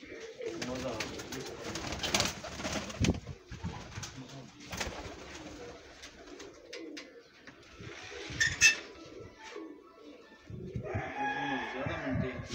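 Pigeons coo and flutter close by, with bursts of bird calls mixed among people talking throughout.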